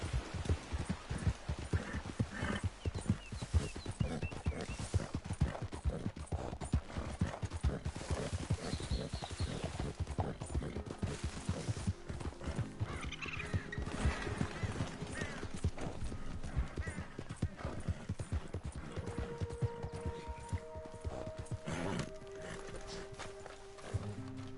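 Horse hooves clip-clopping steadily in Red Dead Redemption 2, a continuous rhythmic trot throughout with a rainy wash behind it and a brief whinny, at moderate level without talk.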